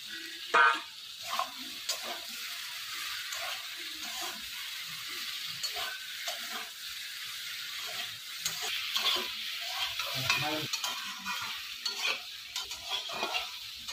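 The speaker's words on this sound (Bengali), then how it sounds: "ভেজে রাখা পনিরগুলো দিয়ে দিলাম।" Fried paneer pieces tossed into a pan and stirred for a vegetarian curry, a continuous bright sizzle broken by repeated spatula scrapes and light clatter, moderately close.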